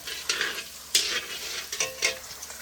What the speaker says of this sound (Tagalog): Ang sunod ay bawang. Igigisa muna.